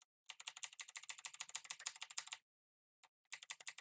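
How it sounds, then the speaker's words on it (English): Arrow keys on a computer keyboard are pressed in a fast, steady run of crisp, close clicks for about two seconds, followed by a short pause and another quick burst. "use your arrow keys on your keyboard to look for where it says level name"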